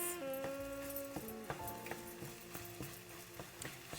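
Eggs scrambling and drying out in a hot pan while fried rice is made, with a steady sizzle and repeated scraping, stirring taps of a utensil against the pan, close and continuous.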